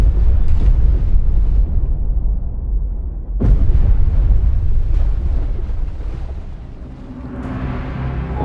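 Heavy depth charges bursting underwater in the naval combat game Destroyer: U-Boat Hunt, a deep rumbling blast near the start and a sharp loud detonation midway, followed by churning, surging water noise.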